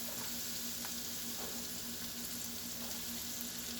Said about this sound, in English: So saute for 5 minutes.